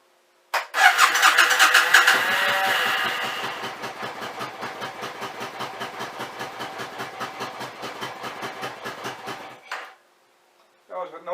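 Suzuki Intruder 1400 motorcycle engine cranking and catching, rising to a loud roar before settling into a steady rhythmic idle that runs for several seconds, then cuts off abruptly.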